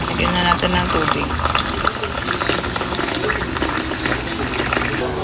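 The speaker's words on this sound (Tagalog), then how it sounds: "Ayan, lagyan na natin ng tubig." Water pours steadily into a cup to make coffee, a continuous close, fairly loud filling rush with a person talking over it.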